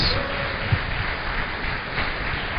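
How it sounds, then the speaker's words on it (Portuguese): Church congregation applauding during a worship service, a steady, dense wash of clapping that carries on for the whole stretch, loud and continuous with no talk on top. "Aplaude o nosso Jesus bem lá em cima, forte, glória a Deus."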